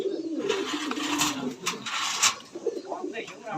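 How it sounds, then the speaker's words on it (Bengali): A black Bombay pigeon at a fancy pigeon farm in Sakhipur, Tangail, gives low, wavering coos, close by, alongside other soft bird sounds in the loft. "বোম্বাই কবুতর ডিমে আছে।"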